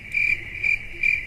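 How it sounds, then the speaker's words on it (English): Crickets chirp in three evenly spaced bursts of rapid high trills over a quiet low background rumble, with no talking. "let me hear some crickets"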